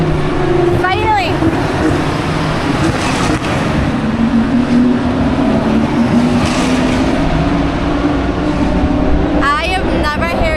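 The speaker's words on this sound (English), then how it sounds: "We have been completely distracted by the noise of these cars going through the city" Loud, continuous engine roar from racing cars fills a city street in Saudi Arabia, with rising and falling revs as vehicles pass, and voices audible underneath.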